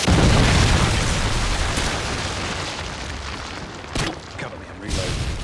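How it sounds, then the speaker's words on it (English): A Predator missile explosion in Modern Warfare 2 opens with a loud, dense boom rumbling into a long roar of debris and wind. Sharper crack-like bursts follow near the end, with faint voice traces mixed in. "Friendly Predator missile inbound."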